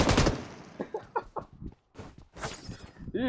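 Rapid bursts of automatic gunfire from an online multiplayer video game, several sharp volleys crowding the short stretch, close and loud.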